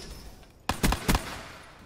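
Pistol gunfire in a video game: after a quiet stretch, a few sharp, loud shots land close together in two bursts, each with a quick ringing tail.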